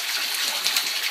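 Warm hot-spring water runs steadily through a pipe into a sizeable mountain soaking pool at Bishop Bay Hot Springs, a continuous soft rushing gush with no pauses.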